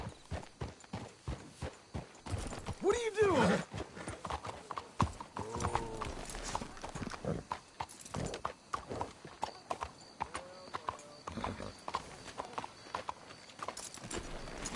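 Horse hooves clip-clop at a walk in Red Dead Redemption 2, a steady rhythmic patter close by, with a horse whinny partway through and brief talk from a character.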